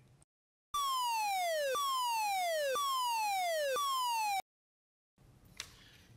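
A Pfannenberg PA 20 signaling alarm gives a loud electronic tone that sweeps downward over and over, repeating in an even cycle for about four seconds before stopping abruptly, followed by faint room noise.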